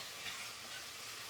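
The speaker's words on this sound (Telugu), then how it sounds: "ఇప్పుడు మనం కర్రీ కోసం బోటి వేసుకుందాం తాలింపులో" Goat tripe (boti) sizzles steadily in hot tempering for a curry, a close, even hiss of frying that stays constant through the short stretch and ends in a brief sharper crackle.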